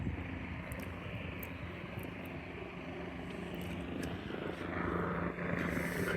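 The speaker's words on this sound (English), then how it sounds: "there's a helicopter about to take off" A helicopter idles on the ground at an aerodrome just before take-off, a steady broadband engine and rotor drone that holds constant throughout and swells slightly toward the end.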